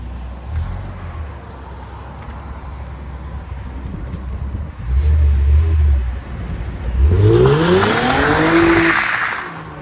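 A Lexus IS 350 with a 3.5L V6 and its exhaust valves open idles with a deep rumble, then pulls away hard, the exhaust note rising loudly through the revs amid some wind noise, with no talking.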